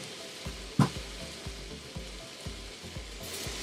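Spice toasting in a small amount of hot oil, a continuous close crackling sizzle with one sharp louder pop near the start and soft rhythmic scraping from stirring.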